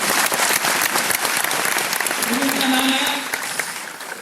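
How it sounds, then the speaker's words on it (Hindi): Crowd at a live Haryanvi stage show claps loudly and steadily while a voice speaks over the applause, which thins out toward the end. "ताली बजाते रहना बस"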